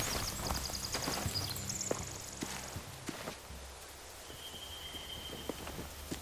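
Horse hooves clip-clop at a walk in The Walking Dead Telltale game, over a steady outdoor ambience, with scattered thuds and a faint high whine; no voices.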